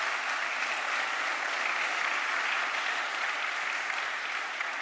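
An audience at a panel discussion on global migration challenges applauds the panelists, steady dense clapping that holds at an even, fairly loud level throughout without any talking.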